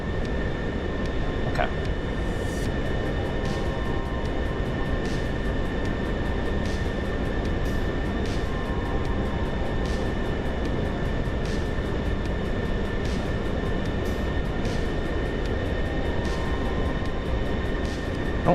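Steady broadband roar of a Pilatus PC-24 business jet climbing after takeoff in Microsoft Flight Simulator 2024, a constant engine drone that fills the whole stretch, with a brief spoken word over it.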